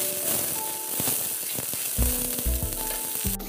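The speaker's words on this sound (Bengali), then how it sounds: "বয়েল করা ফুলকপিগুলো আগে ভেজে নেবো আমি" Boiled cauliflower frying in mustard oil in a wok, giving a steady, close, crackling sizzle throughout, with faint low tones in the background.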